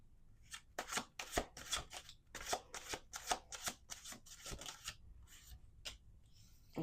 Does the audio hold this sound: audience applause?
no